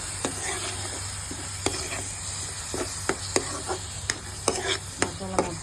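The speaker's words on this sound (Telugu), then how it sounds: "పేస్ట్ వేసాం కదా, ఇప్పుడు పొడి మసాలా వేస్తున్నాం" Masala paste frying in oil and being stirred, a steady close sizzle broken by repeated sharp scrapes and clinks of the spoon against the pan.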